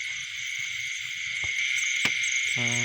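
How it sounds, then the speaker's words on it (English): A black cricket caught at night chirps in a steady high-pitched trill over faint low background noise, with a few brief clicks and a tonal blip near the end. "black cricket. Black cricket. Yeah, black cricket."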